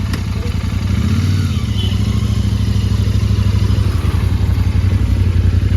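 A Royal Enfield Interceptor 650 motorcycle on a short test ride, its parallel-twin engine droning steadily and close with a low thumping pulse and a brief rise in revs early on, no talking.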